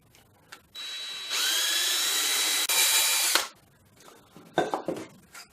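A power drill whines as it bores into wood, a loud steady grinding burst of a few seconds, followed by light clattering and handling noises.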